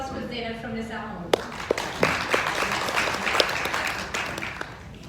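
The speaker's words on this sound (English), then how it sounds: "so big round of applause for Zainab from Nisa Home." Applause breaks out at an International Women's Day community event in Hamilton, with sharp claps rising after a short stretch of talk and lingering voices beneath the moderate clapping.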